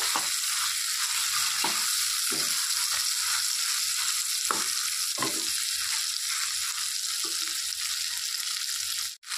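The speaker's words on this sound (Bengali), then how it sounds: "এটাকে এখন ভালো করে একটু নেড়ে চেড়ে নেব, একটু ভাজা ভাজা করে।" Chopped onions fry and get stirred in rendered fish oil, giving a steady, close sizzle with scraping spatula strokes at irregular intervals and no talking.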